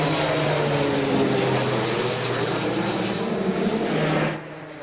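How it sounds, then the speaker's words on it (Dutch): A Royal Air Force Short Tucano turboprop trainer flies past at the Ursel Avia 2018 airshow, a loud, broad engine roar with a wavering tone that holds steady, then drops off sharply near the end. "Tucano-trainingsvliegtuigen van de Royal Air Force."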